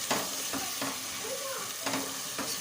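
Chicken frying with onion, tomato and green chillies for arvi chicken salan, a close sizzle broken by a few spoon scrapes and stirs against the pan, without speech.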